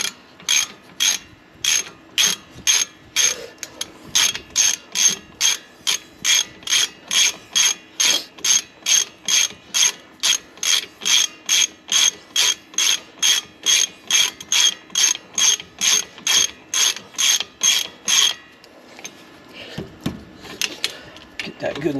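A hand ratchet tightens a wheel on a 2013 Dodge Avenger with a long, steady run of loud close clicking strokes at an even rhythm, then stops, leaving faint shop noise.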